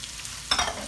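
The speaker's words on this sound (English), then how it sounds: "I'm putting the onions and celery now." Onions and celery dropped into hot chicken pan drippings, with garlic to follow, for an old-school chicken noodle soup; a loud, sudden sizzle bursts in halfway through after a quiet start.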